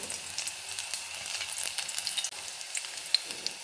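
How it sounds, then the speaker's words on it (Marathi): Garlic frying in oil in a wok gives a soft, continuous sizzle with light crackles and stirring scrapes, fairly close and without speech. "इथे कढईमध्ये तेल टाकलं आहे आता यामध्ये मी लसूण टाकून घेते"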